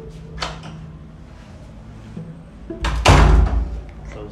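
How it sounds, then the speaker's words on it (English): An indoor door is pushed shut, a rustle and handle movement followed by a solid, fairly loud thump near the end. "close the door."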